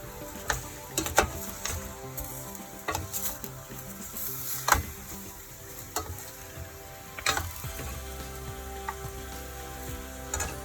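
Tomatoes being stirred in a frying pan for ginamay: a continuous low sizzle with repeated sharp clacks and scrapes of a spatula against the pan at an irregular pace, close by.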